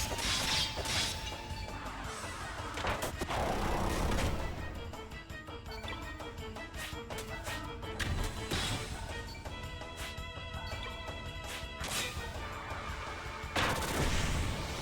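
Shoulder turrets fire during video game combat as a dense, continuous barrage of loud crashes, thuds and gunfire-like bursts mixed with whooshes, layered over game effects.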